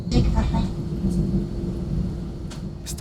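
Rain with rumbling thunder at Tokyo Haneda airport, a steady low roar of downpour and rolling thunder filling the background, with faint voices and brief higher hiss bursts near the end.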